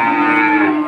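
A bull at a cattle market lets out one loud, close, low and sustained moo lasting about a second.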